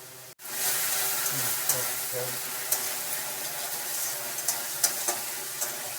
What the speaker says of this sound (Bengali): ভালো করে ভেজে নিচ্ছি যতক্ষণ না আদার কাঁচা গন্ধটা চলে যাচ্ছে